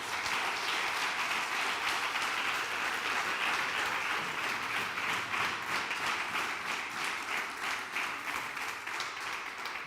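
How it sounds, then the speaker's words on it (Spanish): Church congregation gives a sustained round of applause, many hands clapping steadily with a faint rhythmic pulse, even and full for about ten seconds before easing slightly at the end. "te invito a que le des un aplauso al Señor Jesucristo."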